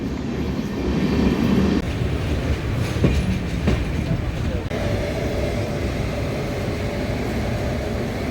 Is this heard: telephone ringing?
no